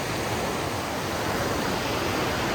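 A spring waterfall in a forest roars as a broad, steady rush of falling water, constant and fairly loud throughout, with no voices.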